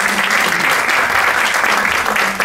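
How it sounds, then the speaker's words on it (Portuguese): Dense, steady applause from a theatre audience welcoming a stage performance, a continuous loud wash of many hands clapping close by for the whole stretch with no talk over it. "Então, uma salva de palmas."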